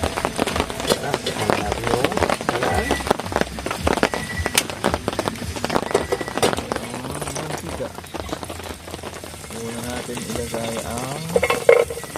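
Pinula is being fried and stirred in a pan at a rainy motocamping spot, with sizzling and scraping stir strokes throughout while people talk over it.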